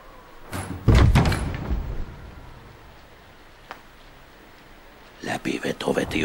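A door pulled shut by a draught from a window blown open by the wind: a sudden loud slam with rattling reverberation near the start, a small knock later, then voices talking over rain-like background noise.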